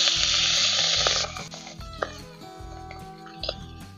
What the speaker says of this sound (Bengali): দিয়ে পুঁটি মাছটা ভাজবো